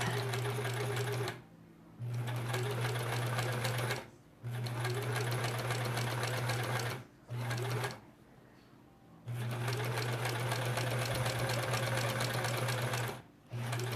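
A sewing machine stitches a quilt block in several steady runs, its motor humming close by and stopping briefly between bursts.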